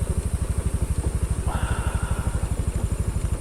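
Motorcycle engine on a steep downhill mountain road, a rapid rhythmic putter like an idle or light throttle, steady and fairly close, with a faint brief voice partway through.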